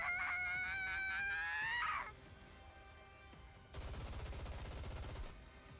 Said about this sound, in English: Snow White unleashes a barrage of bullets in a frenzy